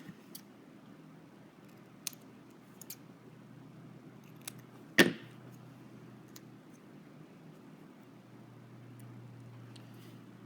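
Scissors make one distinct snip through paper for a 12x12 scrapbook page layout, with a few faint ticks and handling sounds around it in a quiet room.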